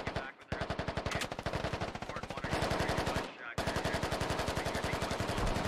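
Sustained automatic gunfire in the video game Squad, loud and close: rapid evenly spaced shots in long bursts broken by two brief pauses, with a voice faintly under the shooting.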